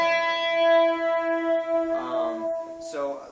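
A sustained guitar note rings, then a quick run of descending plucked notes follows near and clear.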